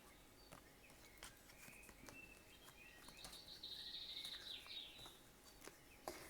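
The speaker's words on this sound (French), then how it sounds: "Vous entendez les petits oiseaux?" Small birds chirp faintly in the distance, with a run of thin, quick twittering calls midway through over quiet room ambience and occasional soft clicks.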